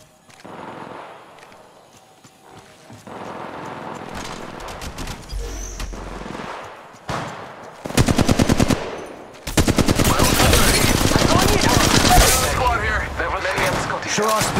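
Apex Legends Mobile gunfire: scattered shots and bursts building into loud, rapid automatic fire in dense volleys, with a voice speaking amid the game sounds.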